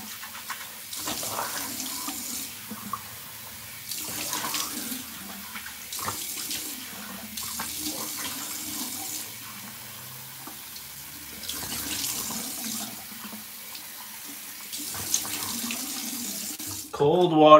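A tap runs cold water in bursts as a razor is rinsed, the splashing starting and stopping several times with quiet gaps, ending in a louder rush at the close.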